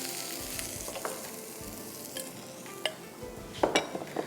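Onions sizzle as they grill in oil for beef burgers, a continuous crackling fry with occasional sharper clinks and scrapes of stirring, fairly close and with no voices.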